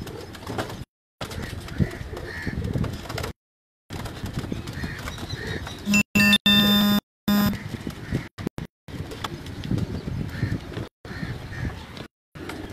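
Asad Bhai's flying pigeons at a rooftop loft, with soft cooing and fluttering wing flaps nearby amid a busy outdoor background, broken by brief dropouts and a burst of harsh noise midway.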